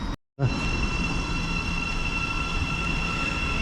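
A Bradford Interchange to King's Cross express passes on the East Coast Main Line with a loud, steady rushing roar of wheels and train noise after a brief gap at the start.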